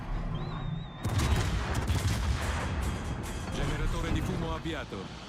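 Naval gunfire in the World of Warships game, a dense run of booming salvos and impacts starting abruptly after a second and rolling on continuously, loud and close, with a whistling tone beforehand.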